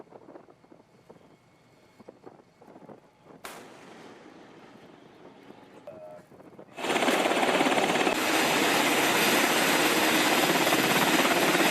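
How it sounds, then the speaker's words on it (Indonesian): Military helicopters take off from the deck of the warship USS Tripoli; quiet clatter gives way to a sudden, loud, sustained roar of rotors and engines with heavy wind buffeting for the final seconds. "Sejumlah helikopter dari USS Tripoli terlihat lepas landas saat dikerahkan oleh CENTCOM."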